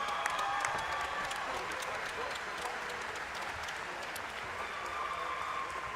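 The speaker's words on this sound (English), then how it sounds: "please give Javanis Ross a big round of applause" A crowd at a GLORY kickboxing event applauding in a steady wash of clapping and cheers, moderately loud and continuous throughout, with an announcer's voice faintly underneath.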